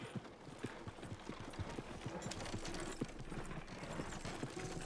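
Horse hooves clip-clop at a steady trotting rhythm in the Red Dead Redemption video game, with faint rattling and creaking of gear under a low background hum.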